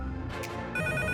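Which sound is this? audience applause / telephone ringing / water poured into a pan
telephone ringing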